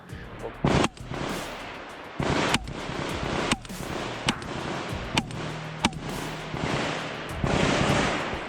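Sharp, loud gunshots and blasts crack out repeatedly at irregular intervals over a continuous rumble of distant firing and explosions, during combat in the Serebryansky forest, Ukraine.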